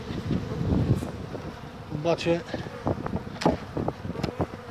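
Honey bees buzz around an open hive during a spring inspection of a colony covering four to five frames, a steady low hum with passing wing whines, while someone speaks briefly outdoors in light wind.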